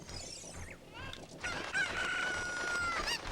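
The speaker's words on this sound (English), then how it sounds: "Where did that cuckoo go?" Cucco chicken in Zelda: Ocarina of Time, a crowing, clucking fowl call that rises in pitch and holds, close and clear over a faint background hum.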